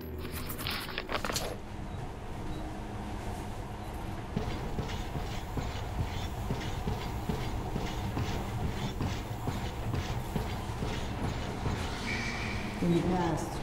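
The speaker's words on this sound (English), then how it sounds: "In the past, trains were ordinary things. But now, this monorail seems magic, doesn't it?" A monorail train rolls steadily through a Metro video game scene, with a continuous rumbling, rattling clatter of the carriage running throughout, moderately loud and close, while someone speaks over it.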